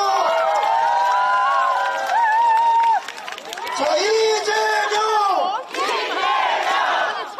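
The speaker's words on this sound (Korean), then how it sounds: "뜨거운 박수로 함성을 함께 해주십시오" A crowd at an outdoor election campaign rally in Korea roars and cheers in loud surging waves with chanted shouts, while a voice leads over the noise.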